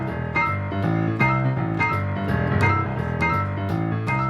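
A piano plays a boogie woogie octave bass line, a rhythmic, rolling pattern of repeated low octave notes under bright chords, steady and clearly close, with no talking.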